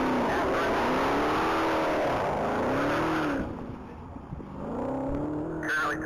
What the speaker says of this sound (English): On deck is vehicle number 842. That's going to be a 23 Dodge Jailbreak Red-Eye Hellcat.